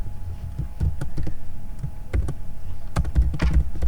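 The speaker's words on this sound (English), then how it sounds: "I'm going to keep that open just so I can start typing some notes as we go" Someone types on a computer keyboard during a lecture, a quick irregular patter of close, fairly quiet key clicks bunched in short bursts with no talking.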